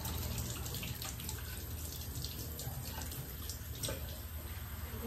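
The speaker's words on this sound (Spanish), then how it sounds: "Voy a poner la agüita caliente para que no se vaya a dañar el vaso con la agua fría." Hot water running steadily from a kitchen tap, used to rinse a blender glass: a continuous close splashing rush with no pauses and no talking.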